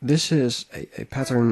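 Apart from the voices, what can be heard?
None of the usual background noises is heard.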